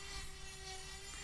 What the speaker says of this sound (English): can finish off some of the edges with a Dremel grinder